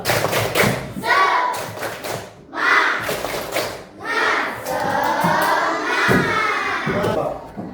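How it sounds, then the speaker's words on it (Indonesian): Classroom students perform a rhythmic spirit clap, bursts of loud group clapping with thumps alternating with children chanting and shouting together, close and energetic. "Coba tepuk semangat"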